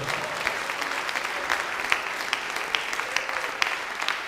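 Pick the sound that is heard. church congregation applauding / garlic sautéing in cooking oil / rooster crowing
church congregation applauding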